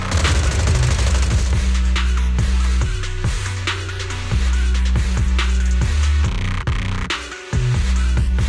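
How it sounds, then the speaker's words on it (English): Suppressive marching gunfire in Zenless Zone Zero, a dense run of booming shots in rapid rhythmic bursts, loud and close with a heavy low rumble carrying throughout. "Gunfire? This pattern. Suppressive marching fire."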